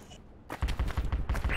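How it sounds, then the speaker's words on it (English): Rapid bursts of gunfire crack close by in the military shooter Project Reality, a tight run of sharp shots after a brief quiet. "Oh, we're getting shot at."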